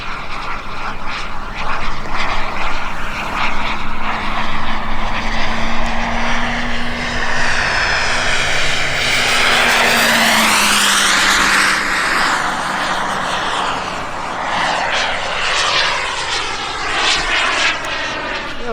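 An Extreme Flight Slick 580 RC plane on its maiden flight roars overhead, its engine whine swelling loud as it passes, sliding in pitch, then fading and returning.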